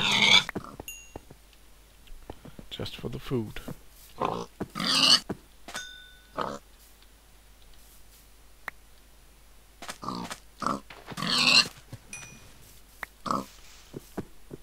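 Pigs in Minecraft oink and get hit in short bursts, with clicky game sounds scattered between them, all under someone talking.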